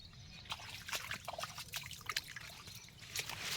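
Rainwater trickles and dribbles through a freshly dug drainage channel in a waterlogged cotton field, a faint, continuous outdoor flow with small splashing pulses.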